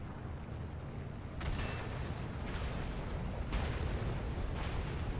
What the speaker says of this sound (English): So I just killed him with the bombs.